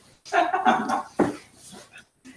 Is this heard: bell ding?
no